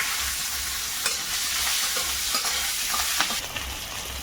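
Dry red chilies, bay leaves and chopped onion frying in oil in a kadai, with a continuous loud sizzle and occasional scraping stirs.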